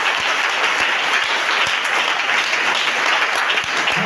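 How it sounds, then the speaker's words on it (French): A church congregation applauds loudly and steadily throughout, a dense continuous wash of clapping with no pauses, heard during a worship service. "Acclame très fort."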